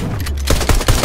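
Several quick pistol shots in a first-person shooter video game, loud and close, fired in a fast cluster over about a second with no talk.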